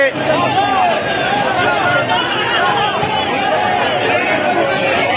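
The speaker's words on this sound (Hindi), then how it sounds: "ये लोग, ये भीड़" A large crowd gathered outside the Peshawar workers' convention makes a steady, loud babble of many voices chattering at once, close by and continuous.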